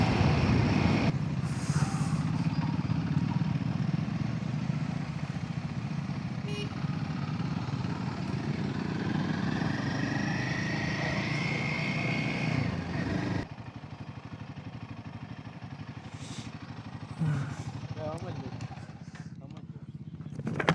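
Royal Enfield Himalayan 450 motorcycle riding on a road, a steady engine drone and wind rumble running throughout at moderate loudness, with a voice talking over it.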